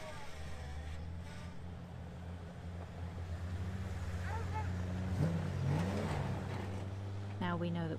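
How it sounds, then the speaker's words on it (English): An Ultra4 off-road racing vehicle idles and revs during a tricky three-point turn, a continuous low engine drone that swells slightly midway, with faint voices in the background. "Precarious 3-point turn."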